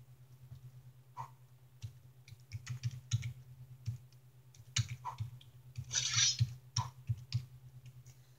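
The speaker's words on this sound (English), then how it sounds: "I'm typing in what is happening" Soft, irregular clicking of computer keys being typed, in quick bursts and pauses over a steady low hum.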